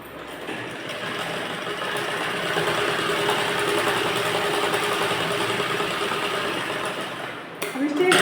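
A sewing machine stitches a blouse, running fast in one continuous whirring pass for most of eight seconds, fairly loud and close, with a voice talking over it.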